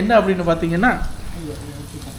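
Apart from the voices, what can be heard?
food frying in hot oil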